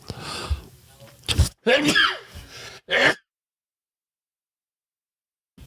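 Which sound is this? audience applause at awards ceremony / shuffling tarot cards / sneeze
sneeze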